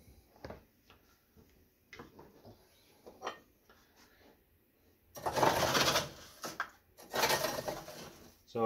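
Dry spent grain is scooped with a one-cup measure, producing soft scattered ticks and clinks, then two louder gritty rustling bursts of grain being scooped up close.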